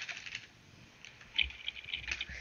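Rapid clicking keystrokes on a computer keyboard while playing Minecraft, a light, fairly close patter that briefly quiets, then returns with sharper, louder taps.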